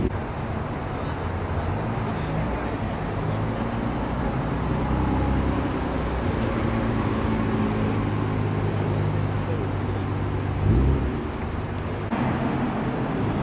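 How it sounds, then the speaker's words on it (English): Cars circling the loop at Daikoku parking area in Japan at night, a steady broad rumble of passing engines and tyre roar with low droning tones and a louder swell near the end, no talking. "it's so crazy just hearing the cars go around the loop"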